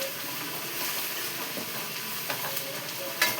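Masala spices frying in oil in a pan before mutton keema is added, a continuous close sizzle with occasional soft stirring scrapes and no talking.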